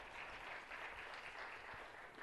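Applause fills a Los Angeles city council meeting: a dense, steady clatter of many hands clapping together, sustained evenly for a couple of seconds with no pauses.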